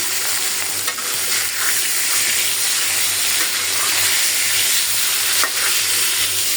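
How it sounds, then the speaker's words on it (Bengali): Vegetable stalks fry lightly in a pan with a steady, loud sizzle and hiss, broken by occasional stirring scrapes, with no talking. "এদিকে ডাটা সুন্দর করে কেটে ধুয়ে কষায় দিলাম, হালকা করে একটু ভেজে নিচ্ছি।"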